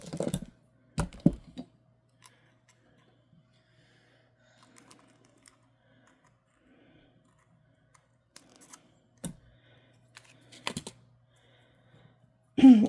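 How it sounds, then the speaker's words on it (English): Scissors cut a piece of thin wire for beading a crochet hat, a few sharp snips and clicks close by amid near silence, with a brief bit of speech. "I have some of this wire here, and I'm going to cut a piece off."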